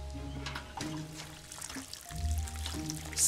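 A watering can pours water onto crops in the survival game Len's Island, a short, gentle, trickling stream over low game music, with no voices.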